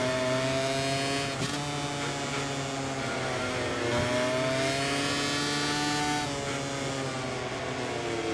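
Racing motorcycle engine in the MotoGP 24 video game, a loud continuous high-pitched drone that rises and falls with gear changes and throttle, heard alone without talk.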